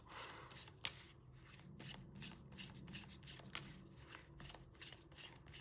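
Tarot cards are shuffled up close, giving a steady run of quick riffling bursts and soft slaps with no talking.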